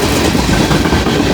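A long coal freight train hauled by eight locomotives rolls past in the rain, a loud, dense steady roar of wheels and cars close by.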